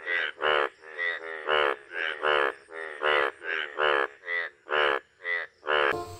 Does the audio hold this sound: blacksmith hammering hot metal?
no